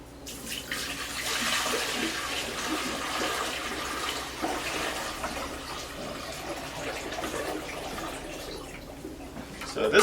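Sanitizer solution is poured from a clean bucket into a Taylor C707 soft serve machine, making a steady close splashing and gurgling rush of liquid that continues throughout with slight swells.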